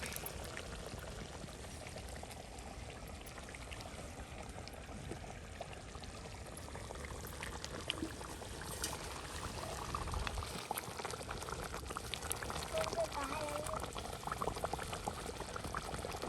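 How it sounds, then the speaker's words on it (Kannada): A pot of egg curry with six eggs added boils hard and steadily, a continuous bubbling roil that holds close and fairly loud throughout, with no voices over it. "ಈಗ ಮೊಟ್ಟೆ ಹಾಕ್ತಾ ಇದ್ದಾರೆ, ಒಳ್ಳೆ ಕುದಿ ಬರ್ತಾ ಉಂಟು"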